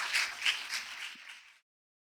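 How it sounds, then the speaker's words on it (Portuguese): A church congregation gives brief, moderately distant applause, a soft pulsing patter of hands that fades out after about a second and a half, leaving silence. "Você pode dar uma salva de palmas, Jesus?"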